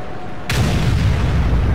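A tank cannon in World of Tanks fires with a single abrupt, heavy boom, followed by a deep, sustained rumble that stays loud to the end.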